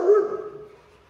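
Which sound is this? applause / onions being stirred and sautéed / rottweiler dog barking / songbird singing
rottweiler dog barking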